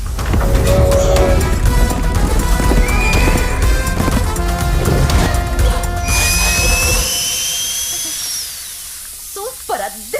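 A horse whinnies loudly over the steady clip-clop of galloping hooves in a film scene, backed by a dense, busy soundtrack that fades toward the end.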